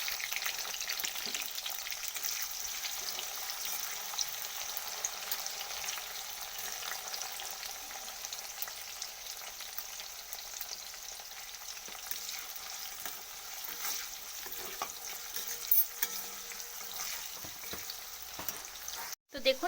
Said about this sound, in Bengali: ফুলকপিটা আমার ভাজা চলছে অনেকটা ভাজা ভাজা হয়ে এসেওছে